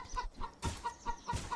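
A chicken in the Bear Simulator video game clucking in a steady run of short, nasal calls, about seven evenly spaced bursts, close and distinct with nobody talking.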